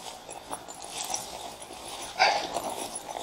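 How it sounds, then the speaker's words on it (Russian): A dog whimpers and whines softly while waiting outdoors, with thin high cries rising a few times, the clearest one past the midpoint, over a low background hum. "собачка ждет"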